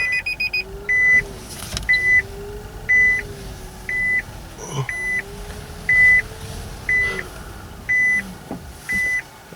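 A Nissan Leaf electric car backing up, its reverse warning chime repeating steadily about once a second over a low, wavering motor whine and faint background hum.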